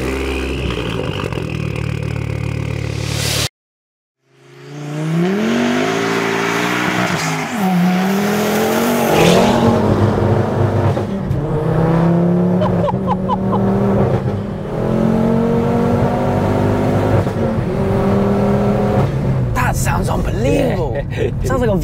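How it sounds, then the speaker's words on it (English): A fully forged 400 bhp Ford Focus ST is started and driven hard, with the engine revving and accelerating through rising and falling gear pulls, tyres scrabbling for grip. People talk throughout over the loud, close engine noise. "So I think we'll get it fired up and go have some fun in this 400 brake Focus ST."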